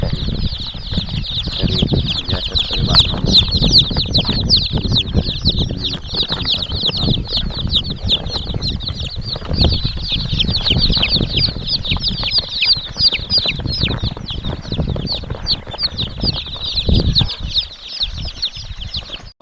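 Kadaknath and native village chicks flutter and cluck together in a busy brood, with dense continuous high chirping and wing flapping close by, steady throughout with no talk.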